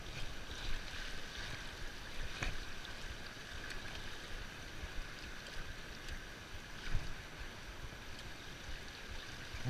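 Broad, continuous rushing water from a waterfall cascade in rural Brazil, a steady textured roar with a few faint knocks and bumps scattered through, no voices.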